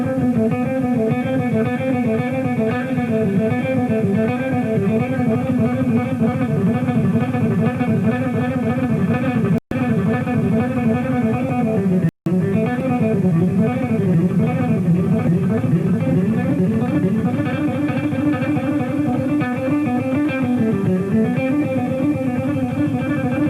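An electric guitar runs continuously through fast sixteenth-note phrases in a rock style, with wavering, bending melodic lines and steady, sustained loudness, and one or two momentary dropouts along the way.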